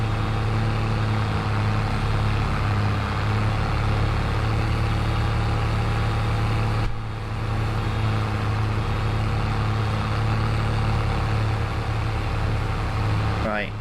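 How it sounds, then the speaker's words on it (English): A loud tractor engine runs steadily throughout, close to the listener, with a dense, unbroken droning hum and a brief dip partway through. "this tractor's just so freaking loud"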